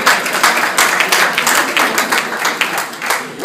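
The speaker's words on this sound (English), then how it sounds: "Don't clap us yet" Audience clapping fills the room, a dense run of many hands applauding steadily and fairly loudly for a few seconds, with no talking over it.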